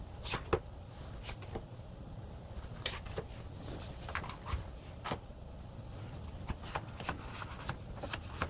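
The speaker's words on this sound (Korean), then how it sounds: "카드로 한번 뽑아보도록 할게요" Tarot cards are shuffled close by in a quiet room, with repeated crisp riffling bursts and soft slaps in an uneven rhythm and no talking.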